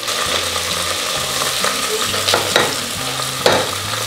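Carrot, chili and onion frying in oil for chicken biryani, a steady close sizzle with a spoon repeatedly stirring and scraping the pan in short rhythmic strokes.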